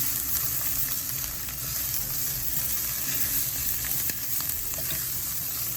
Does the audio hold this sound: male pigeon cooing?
no